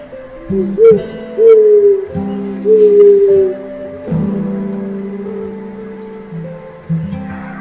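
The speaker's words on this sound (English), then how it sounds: "For example, horned owl, deep, resonant hoots" Deep, resonant hoots of a horned owl, several low tonal calls repeating in a steady, unhurried rhythm, clear and close with no talking.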